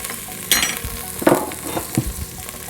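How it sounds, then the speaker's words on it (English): Garlic and spices frying in hot oil hiss and sizzle steadily, with a few scraping stirs of a spoon through the pan and no talking. "And then we just want to cook those spices in that oil."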